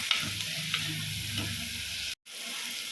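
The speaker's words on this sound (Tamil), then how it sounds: "பூண்டு பச்சை மிளகா சேர்த்தாச்சு இதை நல்லா பரட்டி விட்டுக்கலாம்" Garlic, green chili and onion sauté in a pan for a prawn curry, giving a close, continuous hiss and sizzle with a few stirring scrapes and a brief dropout near the end.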